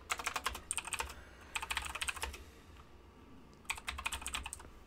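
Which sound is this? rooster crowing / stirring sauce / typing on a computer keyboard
typing on a computer keyboard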